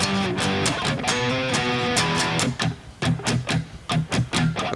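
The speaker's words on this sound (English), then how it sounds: "So the verse kind of sounds like this." An electric guitar plays the verse riff of a song, with distorted chords and quick rhythmic palm-muted chugs that start and stop, loud and close with no talking.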